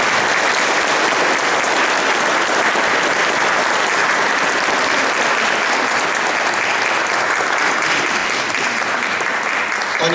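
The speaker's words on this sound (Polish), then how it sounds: "ciepłymi oklaskami" Loud, dense audience applause at a patriotic song contest in Bolesław fills the hall without pause, steady and close, with a few voices faintly mixed in.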